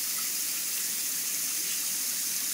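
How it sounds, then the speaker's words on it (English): Warm tap water pours over a chicken egg during hand hatching, giving a loud, constant close-up gush that stays even throughout with no voices. "You gotta use warm water on top of here."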